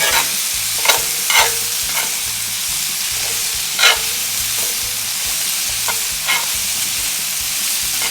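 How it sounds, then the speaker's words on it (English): Vegetables frying in about a tablespoon of olive oil, a loud steady sizzle with occasional sharp scrapes of a spatula stirring through the pan and no voices. "About a tablespoon of olive oil I've added, and I'm going to stir this well"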